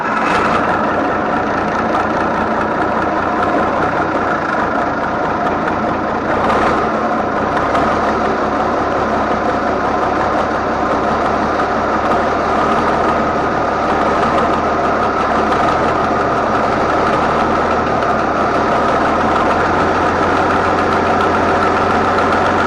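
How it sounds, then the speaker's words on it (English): An International Harvester 1086 tractor's diesel engine cranks over and fires, then settles into a loud, steady, low rumbling idle with a brief surge partway through, heard up close with no talking. "Thought I'd get a little video of the 1086 cranking up the first time today."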